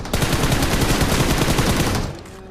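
Rapid automatic gunfire from a PUBG match, loud and sustained bursts of shots for about two seconds before cutting off abruptly, with no talking.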